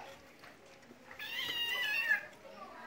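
A small kitten voice in a children's puppet show, performed by a person imitating meowing: a stretch of high, wavering mews in the middle, close and moderately loud, with a quieter voice before it.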